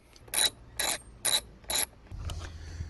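A ratchet loosens a bolt while grab handles are installed on a Ford Bronco, giving four close, even bursts of rapid clicking and then a softer mechanical rattle.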